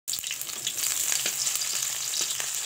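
Chopped onion and green chilli frying in hot oil in a wok, giving a soft, steady crackling sizzle with scattered light pops, heard alone.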